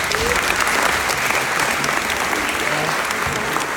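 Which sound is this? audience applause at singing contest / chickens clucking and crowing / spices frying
audience applause at singing contest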